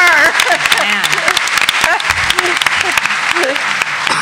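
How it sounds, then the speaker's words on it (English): Audience applause for Ruth Bader Ginsburg at a women's panel during a film festival, with steady clapping mixed with overlapping talk and laughter from the room throughout. "let's just clap for RBG"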